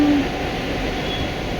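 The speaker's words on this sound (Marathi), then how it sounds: "ट्रेनमध्ये जाण्यात सुद्धा खूप मजा असते." Train running through heavy monsoon rain in Mumbai, a steady rumbling and rattling roar of the carriages with a brief tonal squeal at the start, continuous and close throughout.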